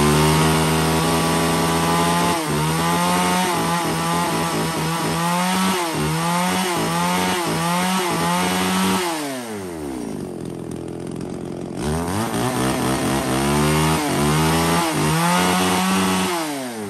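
A used Japanese-market chainsaw, one of a lot of STIHL, ECHO, Makita, Shindaiwa and Tanaka saws, runs loud and close, revving up and down repeatedly, dropping briefly toward idle midway before revving again, with no talking.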